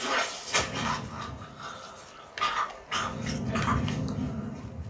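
A dog in The Last of Us Part II pants in quick, breathy rhythmic bursts, close and clear above a steady background hum.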